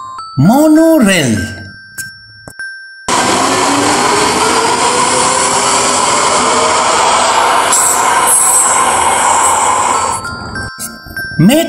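A monorail train runs steadily close by with a broad rumbling hiss and a high whine, ending in a brief chime; talk with a rising and falling pitch comes first.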